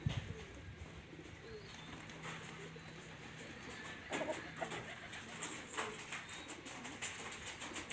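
Pigeons at a loft coo softly and intermittently against low, quiet outdoor ambience. Scattered patter and light rustling or flapping drift in toward the end.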